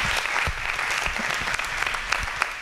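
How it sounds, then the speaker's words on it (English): A church audience at a women's mentoring panel gives a warm, continuous round of applause, many hands clapping close by for the whole moment. "Let's give these mentors a big round of applause."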